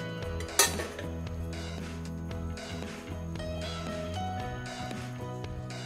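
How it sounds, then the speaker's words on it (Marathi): Metal utensils clink and scrape against a bowl while stirring a batter for Khandeshi bhendake with turmeric and chopped coriander, continuous steady mixing beneath background music. "आता हे सर्व आपण छान व्यवस्थित मिक्स करून घेऊया"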